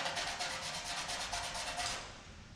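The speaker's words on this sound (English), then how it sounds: "to get the flux off of here, just some water and a toothbrush" A toothbrush scrubs solder flux off metal with water, a close, steady rhythmic bristle rubbing that runs for about two seconds and then stops.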